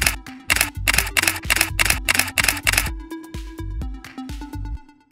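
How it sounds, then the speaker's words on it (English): A camera's shutter release fires during a self-portrait shoot: a rapid series of sharp mechanical clicks in even bursts, close and crisp, then a softer clattering run of clicks trailing off. "when I'm ready to take the picture, I can just go ahead and hit the shutter release"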